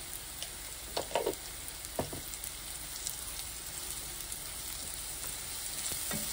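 Okra (ladies finger) sizzles in a pan as it is stir-fried, with a steady frying hiss and occasional scraping clicks from stirring, close and fairly quiet, with no talking.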